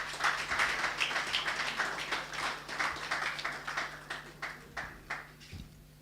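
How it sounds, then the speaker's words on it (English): Steady applause from a conference audience welcoming a speaker to an economic roundtable, a dense run of claps rising and tapering over several seconds, moderately distant with no talk over it. "please, a warm round of applause for Mr. George Onafuoka"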